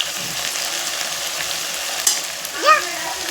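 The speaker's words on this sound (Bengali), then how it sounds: "তো দেখতেই পাচ্ছেন কি সুন্দর করে কষাচ্ছি।" Boal fish curry sizzles in mustard oil in a pan, a steady close frying hiss with stirring scrapes and a brief louder sputter near the end.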